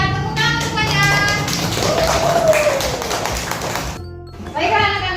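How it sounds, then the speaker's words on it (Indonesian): A class of children claps for a fellow student, a dense run of light hand taps filling several seconds, with young voices chattering through and over it. "Tepuk tangan untuk Fajar."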